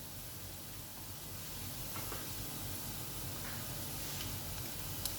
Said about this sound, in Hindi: we wait for the punch फोड़न to slightly splutter